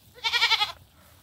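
A goat gives one close, wavering bleat lasting about half a second, then falls quiet against a low background hum.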